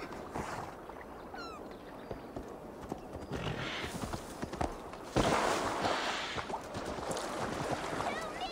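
Horse hooves clip-clop and a neigh sounds in the video game Assassin's Creed Valhalla, with a steady walking rhythm and a louder burst midway, while a voice talks over the game audio.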